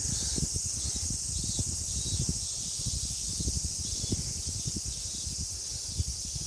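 Cicadas in the Japanese countryside keep up a dense, steady high-pitched buzz that runs through the whole stretch, with low rumbling and footstep-like thumps underneath.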